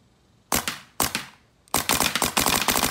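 A paintball marker, an NXT Shocker running off a tank with a hopper, fires two single sharp pops and then a rapid stream of shots, loud and close with no talking.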